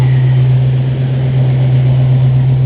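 A car engine idles steadily in a restoration project car with repaired rust, a constant low hum with no revving, close and alone.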